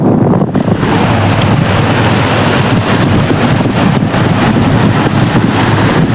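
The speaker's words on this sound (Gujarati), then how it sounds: "નદીનો અવાજ વાપરો ખાલી" A river in flood rushes loudly and continuously, a dense roar of churning water heard up close with wind buffeting the microphone and no voices.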